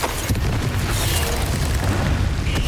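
A Bombarda blasting spell in Hogwarts Legacy goes off as a loud, close, rumbling explosion. Its roar and crackle fill the whole short moment, with no talk over it.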